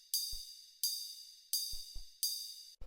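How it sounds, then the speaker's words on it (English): A ride cymbal in a deep liquid drum and bass beat strikes four times at an even pace, each bright shimmering hit decaying slowly, with short low kick thuds between them. No talk. "is this ride, which sounds like this"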